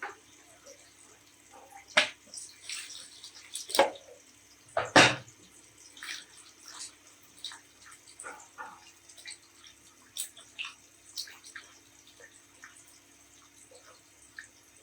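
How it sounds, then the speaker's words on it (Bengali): Cut bitter gourd pieces being rinsed in a bowl of water, with intermittent splashes and sloshes, a few louder swishes early on, then a steady run of small watery clinks and drips, close and alone. "ভালো করে কসলায় ধুয়ে নেব।"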